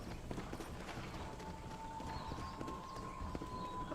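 Horse hooves clip-clopping in the video game Red Dead Redemption on Xbox One, a steady trotting rhythm under a continuous ambient bed of game sound, moderately close.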